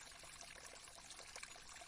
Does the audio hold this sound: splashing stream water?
yes